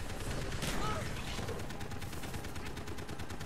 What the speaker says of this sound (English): It's the dragon shotgun!